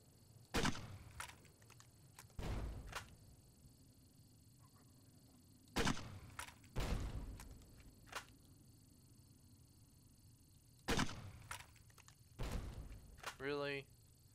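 40mm grenades firing and exploding in Fallout New Vegas, sharp thumps and bursts in scattered pairs with quiet gaps between, followed by a short warbling effect near the end.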